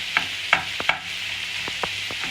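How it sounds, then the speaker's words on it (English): Beef mince sizzles as it browns in a pan under a steady frying hiss, while a wooden spoon breaks it up with several soft, sharp scraping taps spaced irregularly, close by and without talk. "So the tip to breaking your mince up with your wooden spoon, you just want to use a side like so to break it up into mini pieces"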